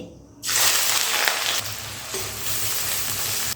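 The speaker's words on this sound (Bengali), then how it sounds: "ওদিকে পেঁয়াজগুলো ভাজা হতে হতে" Chopped onions hit hot oil in a wok and burst into a loud, close sizzle after a brief quiet start, then keep frying steadily as they brown for chicken biryani.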